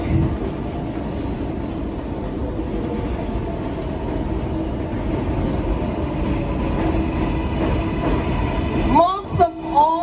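A train rumbles past on an elevated line above a street in Woodside, Queens, New York City, a steady loud roar with rail clatter lasting about nine seconds before squealing wheels and a voice break through near the end.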